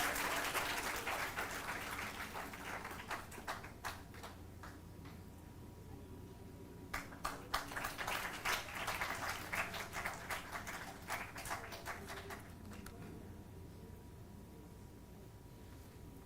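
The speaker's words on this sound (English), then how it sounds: "Students, please applaud." Students applauding at a university conference, a sustained patter of claps that starts fairly dense, thins out, then swells again in a second burst before tapering off, heard at moderate distance in a hall.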